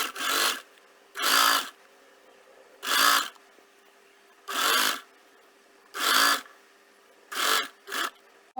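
A sewing machine stitches a cloth bag strip in short whirring bursts, about seven runs of half a second each, with quiet pauses between them.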